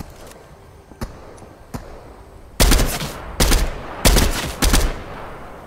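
Video game gunfire, starting with a few faint separate shots and then bursts of loud, close rapid fire in four clustered volleys with short gaps between them.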